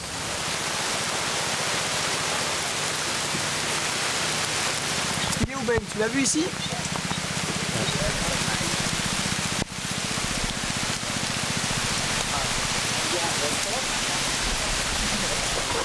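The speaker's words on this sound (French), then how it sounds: "Merde, il pleut." Steady rain falls on an outdoor film set, a dense hiss holding at a constant level throughout, with brief voices talking partway through and a short knock or thump near the middle.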